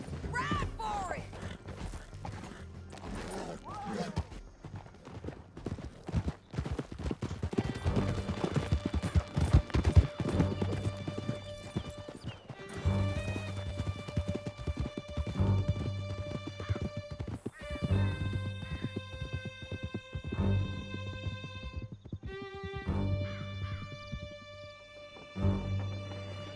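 Horses gallop hard in the Red Dead Redemption 2 game, a dense, loud drumming of hoofbeats over a musical score, with a whinny and occasional voices mixed in.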